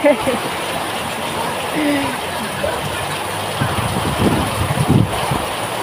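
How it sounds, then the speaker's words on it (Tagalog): Strong wind roars steadily against the microphone during a heavy rainstorm, with low gusty rumbling and people talking faintly underneath. "Lakas ang hangin eh."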